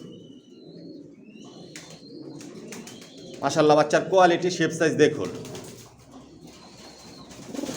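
Long-distance racing pigeon chicks coo and chirp softly in a loft while someone talks over them at close range.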